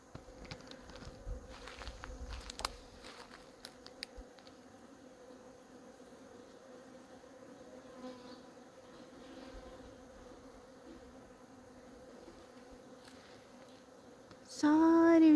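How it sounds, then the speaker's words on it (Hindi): Flies buzz steadily near and far in a mountain garden after snow, a continuous droning hum with a few faint clicks early on and a louder, closer buzz right at the end. "सारे बीच में मक्खियों की भिनभिनाहट ही सुनाई दे रही है।"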